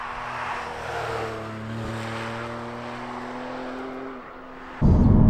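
A 2020 Porsche 718 Boxster Spyder being driven hard through corners on a dry road, its engine note rising and falling in pitch, then a sudden burst of louder rough noise near the end.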